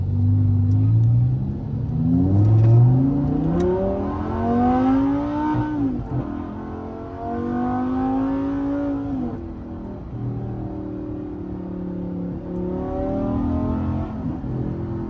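An Audi R8 V10 fitted with a cheap Temu aftermarket exhaust revs repeatedly, each loud rising howl climbing and dropping back in a series of close, sustained pulls with no talking.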